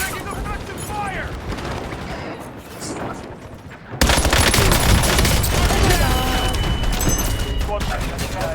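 Gunfire rattles through a Warzone match in Verdansk, with scattered shots and a bright in-game voice callout over the first half, then a loud, dense sustained barrage of automatic fire from about four seconds on.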